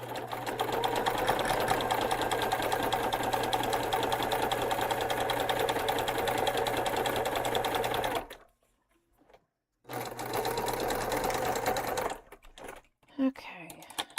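A sewing machine runs steadily while top stitching, a fast, even mechanical whir that stops, pauses briefly, resumes for a couple of seconds, and then gives way to a few faint clicks.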